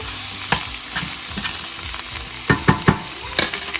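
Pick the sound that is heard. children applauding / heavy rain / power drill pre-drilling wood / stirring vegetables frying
stirring vegetables frying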